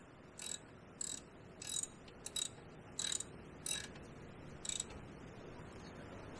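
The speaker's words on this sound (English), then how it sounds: "Take off the bolts if they're in your way." A hand ratchet clicks in seven short bursts, steady back-and-forth strokes taking off brake bolts on a 2010 Toyota Corolla S, close and quiet over a low hum, with no talk.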